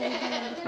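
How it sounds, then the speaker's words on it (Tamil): A single short goat bleat from a pen in a tribal village near Bandipur Tiger Reserve, close and fairly clear, with no talk over it. "ஆடு ஆடு மாடு ஆடு ஆட்டுக்குட்டி ஆட்டுக்குட்டி இந்த பட்டியில் இருக்கு."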